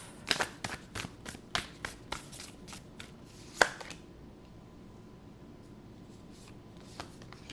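Tarot cards being shuffled and drawn, with a quick run of close, sharp card slaps and taps in the first four seconds, then near quiet with one last soft tap.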